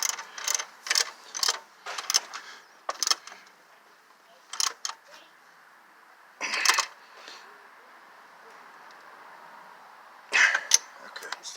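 Someone works on the belt tensioner of a 1990s Toyota A/C compressor with a ratchet wrench, producing bursts of quick metallic clicks separated by pauses, close and moderately loud.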